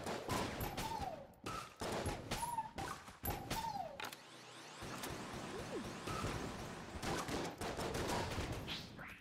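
Rapid bursts of gunfire from Enter the Gungeon, with exploding shots and mechanical clicks between volleys, loud and close, no talk.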